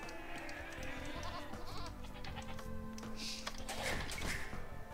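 Sheep bleat in the Age of Empires 2 strategy game, several short calls rising over a busy layer of game music and effects.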